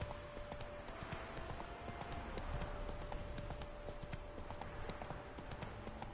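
Hoofbeats of a horse galloping in The Witcher 3, a steady, busy clip-clop running the whole way over a constant background tone, with a brief hint of whinny.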